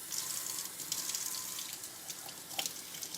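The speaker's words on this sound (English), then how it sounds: "you can rinse it in lukewarm water, and it helps release the bark" Orchid roots are rinsed under lukewarm running water, a steady, soft faucet stream splashing into a sink throughout, with a few faint drips and no voices.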